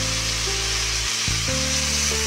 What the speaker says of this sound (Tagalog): Lagyan ng water guys.